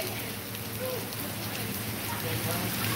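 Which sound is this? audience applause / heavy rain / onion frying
heavy rain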